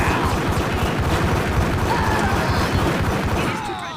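Rapid gunfire crackles in the Max Payne video game, a dense, loud, continuous volley of shots that thins slightly near the end.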